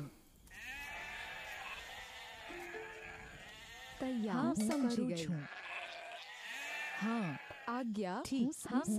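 Sheep in the Rage of Empires strategy game bleat in wavering bursts, layered over game background sound, with a cluster of calls in the second half.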